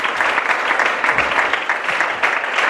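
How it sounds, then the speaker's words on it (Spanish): A church congregation claps for the Lord in sustained, dense applause with a fairly even volume, no single claps standing out, lasting the whole stretch. "Denle palmas al Señor"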